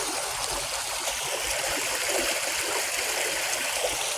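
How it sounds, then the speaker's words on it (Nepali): Steady rain falls outdoors as an even, continuous wash of close patter, with no voices. "ऊ त्यता त पानी परिरहेको छिटा परिरहेको"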